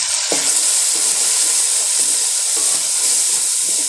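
Spices sizzle and fry in a pan with water for restaurant-style bhindi masala, a steady loud crackling hiss with occasional stirring scrapes throughout.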